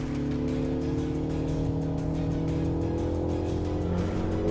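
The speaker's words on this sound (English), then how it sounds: "This 2-liter 4-cylinder engine, it sounds just great." A MINI JCW Countryman's 2-liter four-cylinder engine drones steadily while lapping a race track, heard from inside the car as a loud, sustained hum with rising and falling harmonics.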